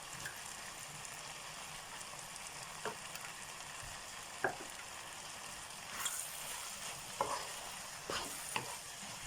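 Boiled, salted cow trotters with vegetables and cumin sizzling in a pan as tomato paste goes in, a continuous soft frying hiss broken by occasional utensil taps and scrapes, no talking.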